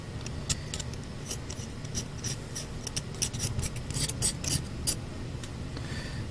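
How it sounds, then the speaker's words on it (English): Close, faint scraping and rasping on the body of a 1/64 NASCAR diecast car in a basement hobby workspace, with short repeated strokes clustered in bursts across the clip. "Scrape that off. Try to get some of this off."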